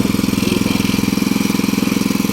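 Machine at a railway construction site on the Nagar–Beed–Parli line, one that builds up pressure to bore holes, runs with a steady, rapid, rumbling engine-like pulse, loud and close throughout.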